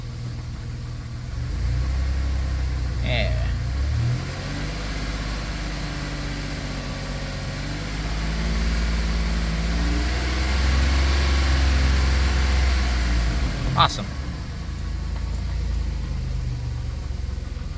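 Engine of a 1990 Dodge Grand Caravan idling on fresh oil, a steady low rumble with slowly wavering pitch, loud and close throughout, while a person briefly speaks and a sharp click or clank cuts in near the end.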